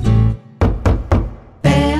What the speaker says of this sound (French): Père Noël frappe à la porte